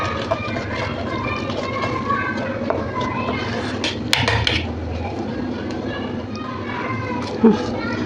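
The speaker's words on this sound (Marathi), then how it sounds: "दाईचे पीठ हे मस्त असं एकाच साईडने आपण त्याला हलवून घेणार आहे" Gram flour batter is stirred steadily in one direction in a pot, scraping and clinking of the spoon against metal under continuous background noise, with a brief louder knock midway.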